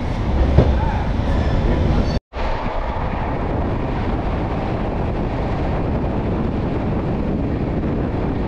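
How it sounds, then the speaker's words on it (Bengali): A passenger train runs on the line toward Bolpur, a loud continuous broadband rumble and rattle heard from inside, steady throughout apart from a brief cut near the start. "ট্রেন কিন্তু মোটামুটি ঠিক টাইমেই ছেড়েছে।"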